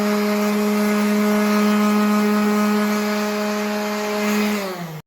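Orbital sander with a steady motor whine and strong harmonic tones working the corners of a wooden picture ledge shelf, running loud and close before winding down at the end.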